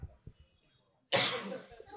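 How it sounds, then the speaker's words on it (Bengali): A single sharp cough bursts out at close range after a quiet pause, brought on by smoke from a burning mosquito coil in a closed room; it trails off into breathy noise. "এখন কাশি হয়ে গেছে।"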